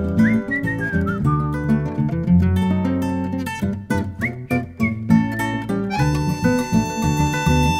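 A melodic human whistle carries the tune of a Spanish-language song over a full instrumental band, with sliding whistled phrases rising clearly above the music and no singing.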